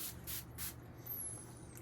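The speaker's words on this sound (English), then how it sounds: "So I have my cleansing spray, and I'm going to spray." A hand pump spray bottle of cleansing spray hisses out three quick, soft sprays in a row, close and quiet, with no talking.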